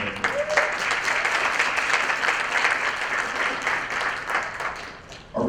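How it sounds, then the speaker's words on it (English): Audience applause for guitarist Joey at a jazz concert, a steady wash of clapping from a sizable crowd that holds evenly for several seconds before tapering slightly. "So let's give Joey a nice round of applause."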